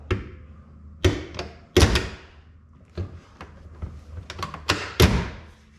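Door of an FFR MkIV Roadster being handled in a garage, a series of sharp knocks and thuds, a few loud impacts separated by quieter taps and rattles, heard close and without speech.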